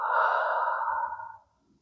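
One long, audible exhale during a guided breathing meditation, a breathy rush that starts strong, holds steady, then fades to silence after about a second and a half.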